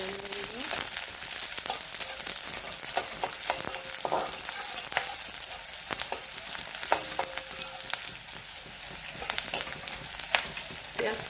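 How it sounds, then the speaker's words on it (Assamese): Onions frying in a pan with green chillies, cinnamon and cardamom for an omelet curry, a steady close sizzle throughout with repeated stirring scrapes and light clinks of the spatula. "পিঁয়াজখিনি অলপ ৰঙচুৱা হোৱালৈকে অলপ এনেধৰণে লাৰি থাকিব লাগিব"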